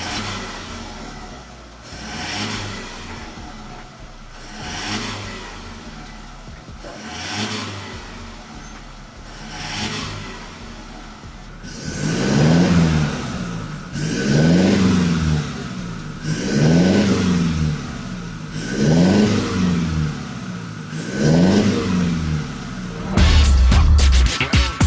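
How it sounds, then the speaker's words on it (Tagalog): A Toyota Tamaraw fitted with a MagnaFlow full exhaust, muffler and tip runs at a steady, throaty idle, then gives five or six sharp, loud revs in a row, ending with a rough burst. "itong nakakabit na yung full exhaust natin using MagnaFlow product, MagnaFlow muffler, tsaka MagnaFlow tip"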